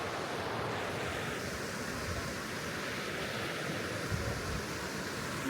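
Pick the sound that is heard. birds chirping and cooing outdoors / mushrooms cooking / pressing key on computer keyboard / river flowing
river flowing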